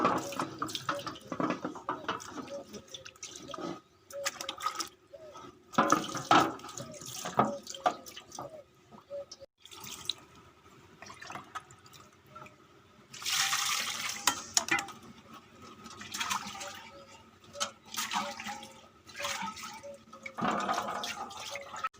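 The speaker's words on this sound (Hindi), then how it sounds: "सबसे पहले हम जो सामान है उसको अच्छी तरह धो लेंगे" Tap water runs as utensils are washed in a sink, with splashing bursts, pouring, drips and clattering handling, on and off in uneven spells.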